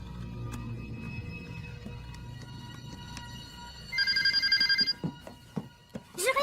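A telephone ringing indoors, starting with one loud electronic ring burst of about a second and then repeated shorter trills, close and clear over faint background noise.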